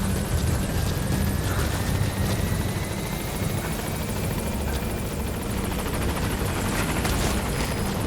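A support helicopter in Metal Gear Solid 5 approaches a landing zone, its loud rotor thumping and engine whine continuous and close throughout, with a faint rising turbine tone.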